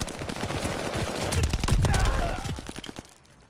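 Rapid gunfire crackles in dense, overlapping bursts around a contested hardpoint in the video game Call of Duty: Vanguard, loudest midway and fading at the end.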